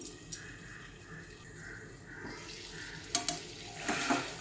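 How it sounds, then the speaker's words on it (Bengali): Spiced potato and pointed gourd fry in oil over a low flame, with a soft sizzle under scraping stirs and a few clinks of a utensil against the pan, louder toward the end. "দেখুন তেল ছাড়তে শুরু করেছে মশলাটা আলু পটলের সাথে কিন্তু খুব ভালো করে কষে গেছে"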